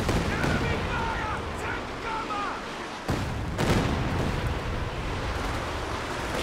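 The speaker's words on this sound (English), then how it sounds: "Good Katyusha barrage there" A Katyusha rocket barrage in the strategy game Company of Heroes 2, a rumbling roar of launches and impacts with a sharp burst near the middle; a commentator talks over it.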